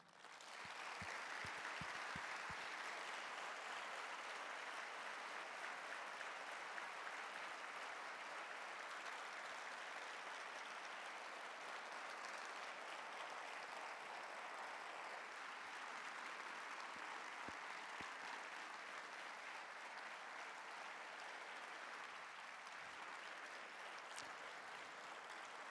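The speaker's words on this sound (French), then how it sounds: "je voudrais qu'on l'applaudisse chaleureusement le plus fort possible." Sustained applause from a large audience, steady and continuous throughout, with a few scattered claps standing out near the start.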